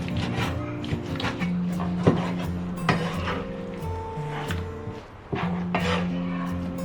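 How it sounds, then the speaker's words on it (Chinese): Lean pork being chopped into small pieces on a board, a series of sharp knife knocks at an uneven pace mixed with clinking of dishes and utensils in a home kitchen, fairly close. "切小块"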